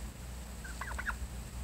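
Turkeys gobble outdoors in spring, a few quick rattling gobbles bunched near the middle, moderately distant over a steady low background hum.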